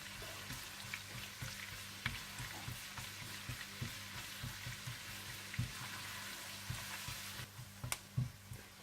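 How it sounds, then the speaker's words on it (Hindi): Julienned ginger frying in hot oil and butter, a faint continuous sizzle with a soft, irregular crackle and a few louder pops, heard alone without talking. "तेल और मक्खन गर्म हो जाए तो आप इसमें जूलियन कटी हुई अदरक डाल दें।"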